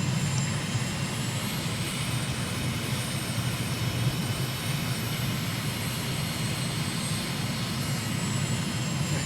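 Steady aircraft engine drone during a long, slow landing approach in Microsoft Flight Simulator, a loud continuous roar with a high whine on top, holding even throughout without pauses.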